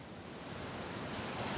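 Sea surf churns under strong wind, a broad continuous roar of waves and gusting air that swells slightly louder toward the end, heard close and with no voices.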